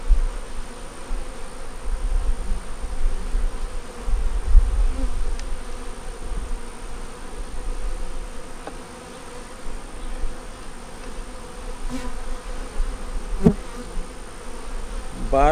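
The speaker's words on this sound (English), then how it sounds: "Bottom looks like they got a pretty good amount of bees in there." Honey bees buzzing inside an opened beehive during an inspection; a dense, continuous hum of many bees close by fills the whole stretch, with faint handling knocks and no speech.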